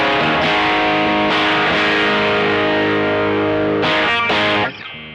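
Electric guitar run through a RAT distortion pedal with the gain, bass and treble turned up, playing loud, sustained saturated chords that ring out in a steady strum, then briefly change and fade at the end.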